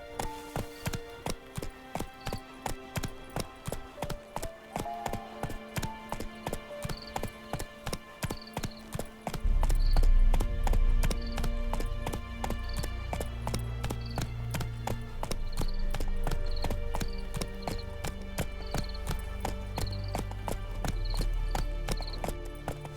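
Roach the horse from The Witcher 3 gallops in steady, rhythmic hoofbeats, loud and close, with a deeper rumbling layer of music or ambience swelling in partway through.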